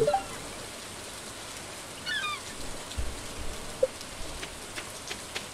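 Rain falling in the video game Stardew Valley on Xbox Series S: a steady, soft hiss of rainfall, fairly faint, with a few brief chirps and small ticks over it and no talking.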